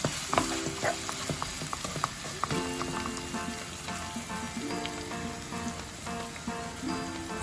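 Onions fry in oil for a prawn bhuna curry, producing a quiet, rain-like crackle with repeated stirring and scraping of the pan and no voices.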